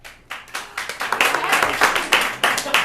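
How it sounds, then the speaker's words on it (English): An improv comedy show audience claps together in a burst of applause, steady and fairly loud, building quickly and holding for a few seconds. "now clap your hands if you've never seen improv before."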